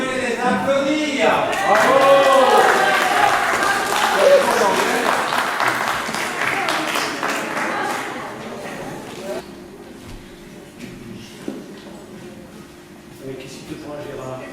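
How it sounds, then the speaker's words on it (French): An audience at a cabaret evening applauds, loud clapping and some cheering at first, fading after several seconds to scattered sounds and quiet talk. "Vous pouvez les applaudir."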